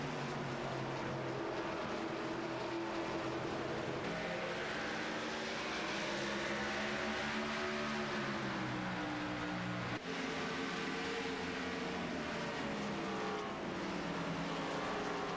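Race cars roar around the New Hampshire oval in an AMA Pro Cup e-sport racing game, a dense, steady engine drone with shifting pitch sweeps as cars run bumper to bumper, continuous and loud throughout.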